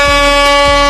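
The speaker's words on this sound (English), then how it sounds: "I got my air horn." A single loud, sustained blast of an air horn, a harsh steady blaring tone lasting about a second.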